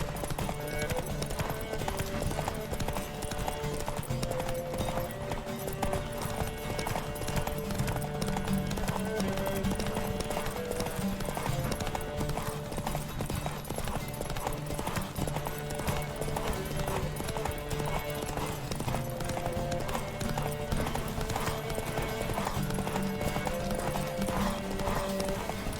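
Horse from The Witcher 3 galloping in a steady, rapid clip-clop of hooves that runs throughout, close and loud, with music or ambience underneath and no clear talk.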